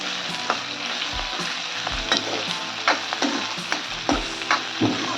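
Tarota wild greens sizzle steadily in a hot pan while a spatula scrapes and stirs them in repeated strokes, with soft clanks against the pan and no talking.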